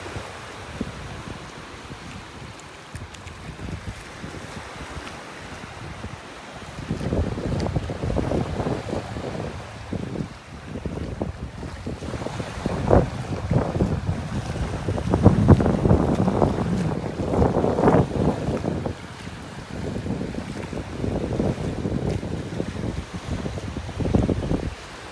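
Steady wind rushes and gusts across the microphone on a North Naples, Florida beach as the tide comes in, with waves washing faintly underneath; the blowing swells louder partway through and stays strong to the end.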